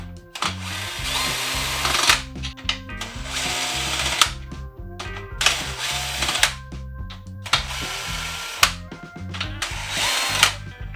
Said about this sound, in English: there's nothing wrong with using a drill.